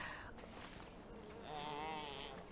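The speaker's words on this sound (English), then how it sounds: "Like, they just straight up sound like goat." Animals in Dragon Age: Origins bleat like goats, a faint wavering bleat rising partway through over a steady, dense game soundscape.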